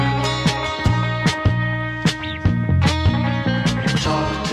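A song plays, with a steady pulsing beat, a sustained bass line and bright layered instrumental tones filling the mix.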